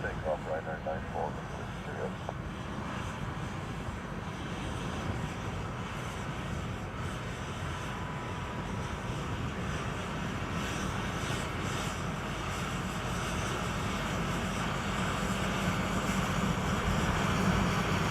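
A Ryanair airliner takes off at Dublin Airport, a steady broadband engine roar holding at constant loudness throughout, with faint radio chatter beneath it.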